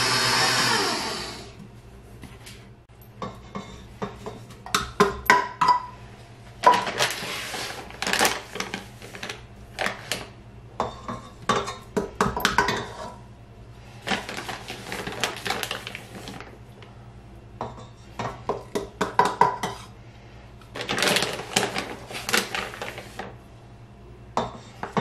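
A stand mixer fitted with a paddle beats almond flour into amaretti cookie dough, clattering and thumping in irregular loud bursts separated by quieter pauses, with a steady low motor hum underneath.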